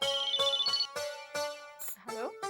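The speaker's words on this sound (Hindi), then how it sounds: "राहुल, सुजाता का फोन है।" A phone's electronic ringtone repeats in short tonal bursts with a steady rhythm, then gives way to a voice and some handling noise.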